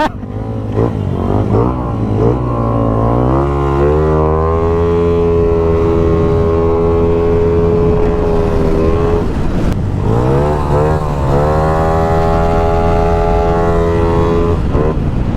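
A Yamaha Aerox V2 scooter with a built 215cc engine revs hard on a test drive, its loud, close engine note climbing and falling, dropping briefly before surging through another high rising pull.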